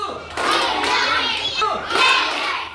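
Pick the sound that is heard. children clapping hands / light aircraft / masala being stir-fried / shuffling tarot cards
children clapping hands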